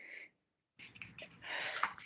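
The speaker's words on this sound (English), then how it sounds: "Sorry, I'm going to sneeze." A single sharp sneeze bursts out close by after a short quiet gap, loud and breathy, trailing into a brief noisy exhale.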